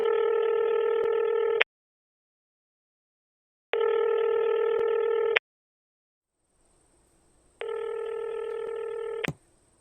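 A telephone handset gives out a steady tone in three long bursts of a couple of seconds each, separated by silences, clear and close with no talk.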